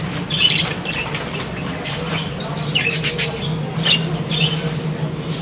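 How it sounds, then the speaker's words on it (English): Assorted caged birds in a pet shop inside a large Kuala Lumpur shopping mall, giving repeated chirps, tweets and squawks with some wing flapping over steady indoor mall hum. "So all these different types of birds."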